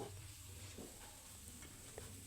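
Potatoes and scallions being stirred with small sea fish in a hot wok, a steady faint sizzle of frying under soft scraping of the spatula, close and continuous with a small clink near the end.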